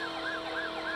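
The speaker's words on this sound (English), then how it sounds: "If I put the sirens on" A video game police car siren wails in quick, repeating rising-and-falling sweeps, loud and continuous over a steady engine drone.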